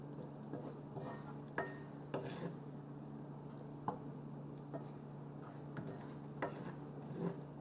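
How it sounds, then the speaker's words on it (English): A spoon stirs mushroom curry with spinach and yogurt in a pan, making quiet intermittent clinks and scrapes against the metal in an uneven rhythm under a low steady hum. "So just mix it well now with the spinach."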